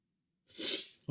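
A single sharp sneeze, close and fairly loud, rising quickly and fading, followed by the start of someone speaking.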